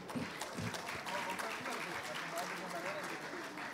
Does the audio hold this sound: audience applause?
yes